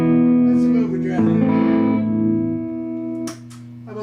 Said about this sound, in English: That's some overdrive.